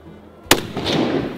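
A single rifle test shot fired at a target on a hunting trip rings out as one sharp, loud crack, followed by a short rumbling echo, with no talk.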